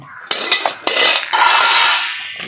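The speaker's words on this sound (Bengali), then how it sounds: "এবারে ঢাকনাটা তুলে নিলাম" Metal clatters and scrapes as a lid is lifted off a pan of frying fish, a few knocks followed by a longer rattling clank, up close.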